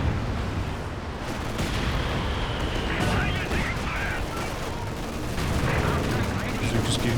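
Dense battle din from Company of Heroes 2: a Werfer rocket barrage with crackling gunfire and blasts, continuous and loud, with a voice talking underneath.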